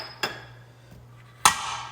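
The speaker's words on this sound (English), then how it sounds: "put the top on my pressure cooker" A metal pressure cooker lid set down on the pot while cooking collard greens: two sharp clanks, the second louder and ringing briefly, over a low steady hum.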